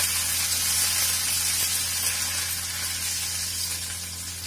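Cumin seeds and chilies sizzle in hot oil with a steady, close, loud crackling hiss that tapers slightly toward the end, with no talk over it.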